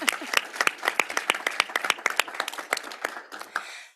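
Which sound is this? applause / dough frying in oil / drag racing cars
applause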